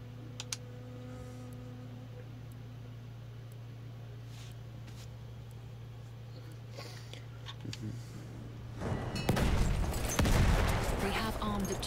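Battlefield 1 gunfire: after a long stretch of quiet hum with scattered ticks, a loud, dense burst of rapid shots and explosive crackle erupts near the end, with a voice talking over the quieter early part.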